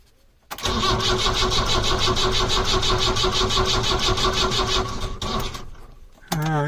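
A Ford Transit van engine cranks over on its first start attempt, a loud, close, rapid rhythmic churning of the starter that runs for several seconds and then cuts out, followed by a short clattering noise.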